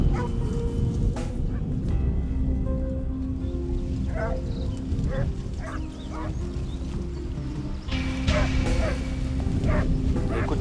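Hunting hounds bark and yip outdoors, short bursts scattered at a middle distance over a low rumbling background, while someone speaks now and then.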